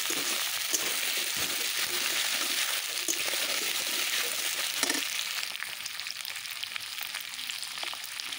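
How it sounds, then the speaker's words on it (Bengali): Small new potatoes fry in a pan with a steady, close sizzle and occasional stirring scrapes, with no talking. "আলুটা এখন আমি একটু ভাজা ভাজা করে নেব বা কষিয়ে নেব"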